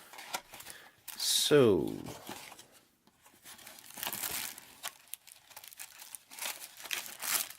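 A knife saws and tears through plastic packaging on a Casio watch, a rough crinkling burst followed by quieter rustling and crinkles, with someone briefly speaking.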